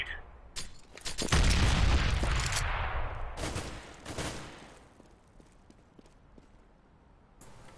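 Grenades going off in a Counter-Strike match: a loud, rumbling blast with scattered crackling bursts, then a second sharper boom, fading into quieter distant taps.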